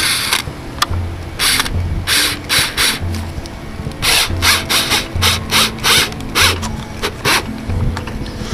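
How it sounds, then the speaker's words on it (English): Set screws are driven into a SunBoss attic fan unit, producing a series of short, loud, rasping whirs in quick bursts, close up with brief pauses between them. "all we're doing is putting a final couple set screws."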